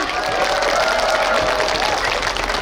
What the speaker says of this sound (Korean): 더큰 박수 한번 부탁드립니다